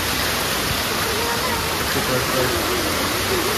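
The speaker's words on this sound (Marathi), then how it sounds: "पहा इथं कसे धबधबा वाहतोय, पाणी बघा" A waterfall near Karla roars in a dense, steady rush of water, loud and close, with a faint voice barely audible beneath it.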